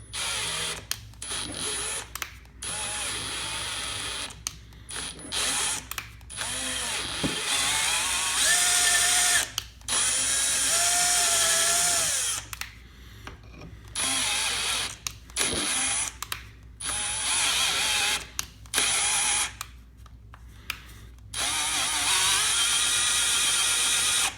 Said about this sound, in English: The aluminum shreds out of here. Tap your holes.